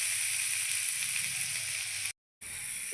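Water poured into frying masala for vegetarian matar paneer sets off a loud, dense sizzle that hisses steadily up close, cuts out briefly near the end, then resumes, with no voices.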